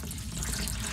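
Steady running or pouring water hisses continuously, close and even in level, with no voices over it.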